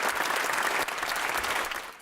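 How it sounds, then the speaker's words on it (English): Sustained, dense applause fills the House of Lords as members rise in a standing ovation, a loud, continuous wash of many hands clapping throughout with no talk over it. "What started as applause turned into an unprecedented standing ovation in the House of Lords"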